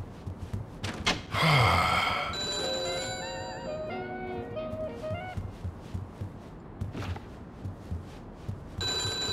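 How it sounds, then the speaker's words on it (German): An old-style telephone rings repeatedly inside a room in The Godfather game on PS3, bright trilling bursts over game ambience with a door slam and a gasp near the start. "Wieso klingelt denn hier das Telefon?"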